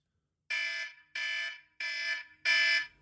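A podcast timer alarm sounds four loud, even electronic beeps in a steady rhythm, each about half a second long, with no talking.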